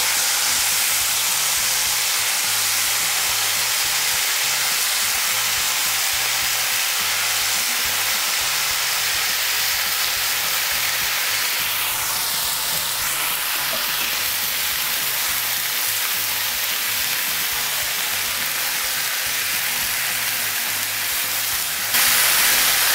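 Green peas and eggplant pieces fry in a pan, giving a loud, steady, hissing sizzle that carries on unbroken, close up and alone, with no voice over it.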